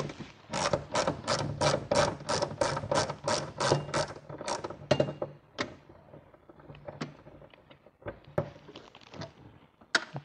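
Ratchet of a 10 mm socket wrench loosening ECM bracket bolts on a MK3 VR6 car, a fast run of sharp clicks followed by slower scattered clicks, close and loud with no talk.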